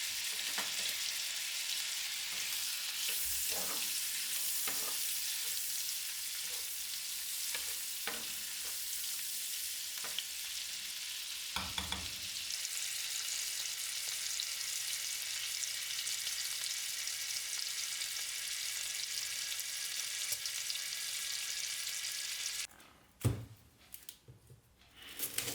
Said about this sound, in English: add the bacon and sauté it briefly to render the fat